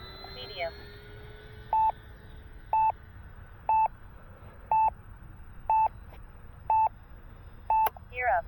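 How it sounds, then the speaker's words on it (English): A flight timer on an RC transmitter, flying an E-flite P-47 Thunderbolt Razorback 1.2 m plane, gives seven short, evenly spaced beeps about a second apart, sharp and clear over steady outdoor background noise. "My timer going off already."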